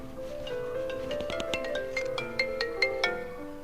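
A mobile phone rings indoors with a short, melodic ringtone that repeats its notes for a few seconds at moderate volume, with no voices.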